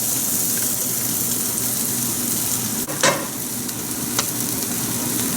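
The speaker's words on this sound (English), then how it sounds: "So for the rice, I've heated up a pan with a little bit of oil. I'll put half of this onion." Half an onion dropped into a hot oiled pan for wild rice, a steady sizzle with a sharp louder burst partway through, close and fairly loud, no voices.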